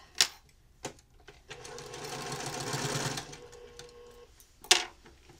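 A sewing machine stitches quilt binding to a corner and then back stitches, a steady motor whir running for about two seconds, framed by sharp clicks of the needle and presser foot before and after, close and clear.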